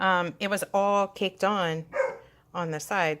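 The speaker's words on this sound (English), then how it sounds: "Sorry, that's my dog." A pet dog barks indoors in short, loud bursts, mixed with a woman's speech at close range.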